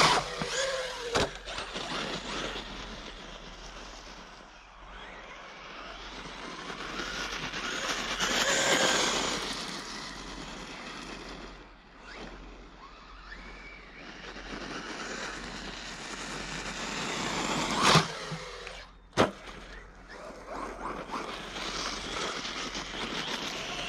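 A Team Associated Pro4 RC monster truck, a long-wheelbase monster conversion on 3S, runs outdoors in cold weather, its electric drive whining steadily and swelling as it speeds up, with a couple of sharp knocks near the end.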